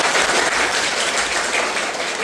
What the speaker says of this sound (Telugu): ఒక 3 క్లాప్స్.